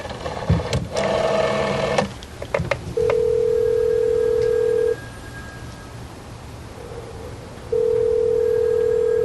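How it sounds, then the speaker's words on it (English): Telephone ringing unanswered downstairs in a hotel in the film No Country for Old Men, two long electronic rings separated by a pause, clear and steady, following a brief earlier clatter. "Moss rings reception and listens out for the phone downstairs."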